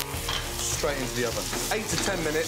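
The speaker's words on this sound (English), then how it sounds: "Skin side down into the pan. Garlic. Thyme. Knob of butter in." Chicken breast fries skin side down in a hot pan with butter, garlic and thyme, giving a continuous loud sizzle and crackle that runs under someone talking.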